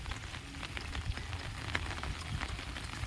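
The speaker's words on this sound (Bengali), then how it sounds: "দেখতে পাচ্ছ আমাদের বৃষ্টি হচ্ছে, প্রচুর পরিমাণে বৃষ্টি হচ্ছে।" Heavy monsoon rain that has fallen for days, a dense steady hiss of drops pattering on surfaces, fairly faint and even throughout with no voices.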